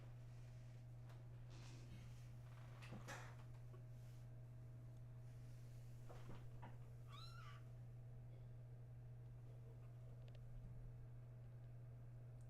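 A house cat gives a few faint, short meows indoors over a steady electrical hum and low room noise, with no talking.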